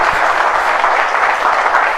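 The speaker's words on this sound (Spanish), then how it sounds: "levanta fuerte aplauso al Señor." Loud, dense applause fills a Spanish-language Christian church service as the congregation claps for the Lord, a sustained even roar of many hands with no speech.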